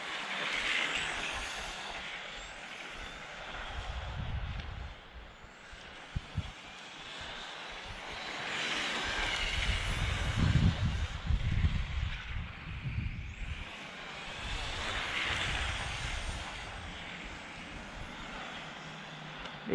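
A Serpent Viper 989E electric RC touring car with a stock 13.5-turn motor and zero timing runs on an asphalt track, its steady whine sweeping up and down as it passes near and away, with no talking.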